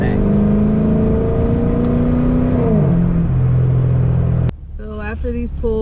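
A warmed-up car engine revs with a steady drone that drops as the throttle closes, then the exhaust fires off a rapid string of sharp crackling pops, loud and close.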